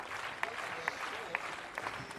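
A French crowd at a Roland Garros tennis match applauds in a soft, continuous patter, with a few sharper claps standing out at a distance.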